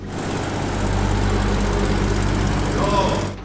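A three-rotor rotary engine car idles with a steady, throbbing low rumble close by, continuous throughout before cutting off at the end.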